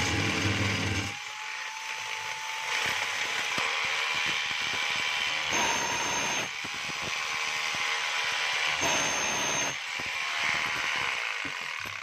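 A DeWalt D25033 rotary hammer runs in drill-only mode, a loud, steady mechanical whine with ratcheting gear rattle, cycling on and off in several bursts at close range.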